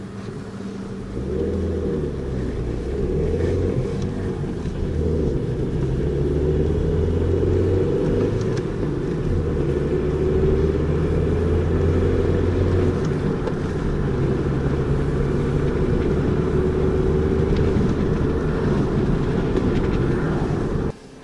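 A car with a manual transmission drives along with a steady low engine rumble, the pitch rising and dropping as gears are changed, heard from inside the cabin with no talking.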